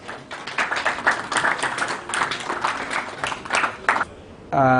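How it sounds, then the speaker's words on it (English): An audience gives a dense, steady round of clapping at an energy technology launch in Uganda, sustained for about four seconds before fading out as music begins. "Round of applause, please."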